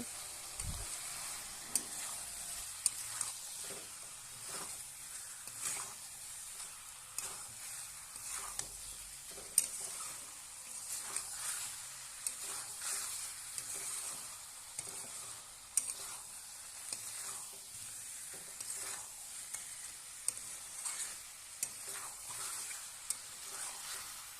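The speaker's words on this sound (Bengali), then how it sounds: "সামান্য একটু জল দিয়ে কষিয়ে নিচ্ছি মশলাগুলো।" Spices cooking down with a splash of water for a jackfruit and chicken curry give a soft, continuous sizzle and hiss, broken by light clicks and scrapes of stirring at fairly regular intervals.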